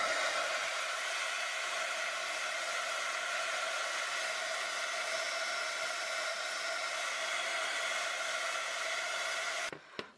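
A heat tool blows hot air steadily to dry ink stain splashes on a card, giving a loud, constant whirring hiss that runs nearly the whole time and then cuts off abruptly at the end.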